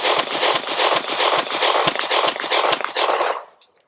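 Sig P365XL pistol firing rounds of 124-grain Blazer, 115-grain Independence and 124-grain PPU NATO ammunition, a dense string of sharp, loud cracks that stops abruptly, followed by a brief quiet tail.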